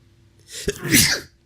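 A single loud human sneeze bursts out close up after a short inhaling build-up, alone with no talking.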